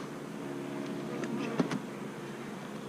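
Honeybees buzz around an open hive as a faint, continuous hum. A few sharp knocks and clicks sound close by midway.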